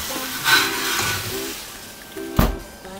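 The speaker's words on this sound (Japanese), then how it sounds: "熱くしたフライパンにお米、少しジューッと言っている温度ですね" Rice sizzles gently in a heated frying pan in a Michelin chef's restaurant kitchen, a steady soft hiss close by, broken by two brief louder bursts as the pan or grains are moved.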